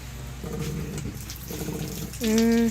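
Water runs from a tap at a beach campsite washing area in Bagac, Bataan, a steady broadband rush with voices in the background, while a louder whistling tone rises near the end.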